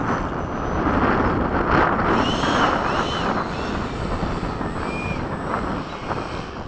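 Radio-controlled Freewing 90mm F-15 jet landing, a loud continuous broadband rush of ducted-fan roar and wind noise with brief whining tones, steady throughout with no talk.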